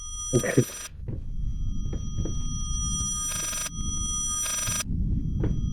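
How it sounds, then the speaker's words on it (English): A telephone rings in the horror video game Layers of Fear (2016): two loud, buzzy electronic ring bursts over a dark, low ambient drone, with someone talking before them. "Oh no, ceiling phone."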